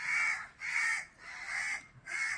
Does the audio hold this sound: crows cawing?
yes